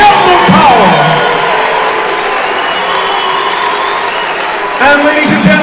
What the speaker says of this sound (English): a massive round of applause from Jonathan Haggerty!